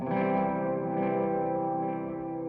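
A sustained distorted electric guitar chord rings with a dull, rounded tone, its highs cut by EQ so it sounds darker and muffled.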